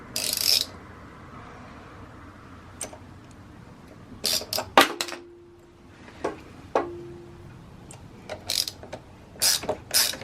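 A puller tool works on a motorcycle primary drive during a Luna Cycle chain conversion, giving scattered metallic clicks and ratcheting snaps with quiet gaps between them.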